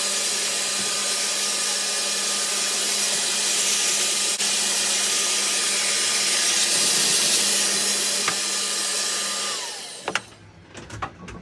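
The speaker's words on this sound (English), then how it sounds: "let me just quickly give this side another hoover off" Vacuum cleaner running with a steady loud whine while hoovering a scaffold board table in a small workshop, then cutting off near the end, followed by brief handling knocks.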